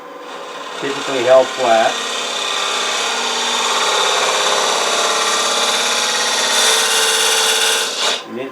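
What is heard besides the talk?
round carbide scraper hollowing wooden box lid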